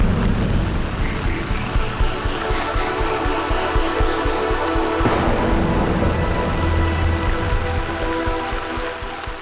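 Heavy rain falling in Mumbai, a loud, dense patter on surfaces that holds steady throughout, with a low rumble underneath and no voices.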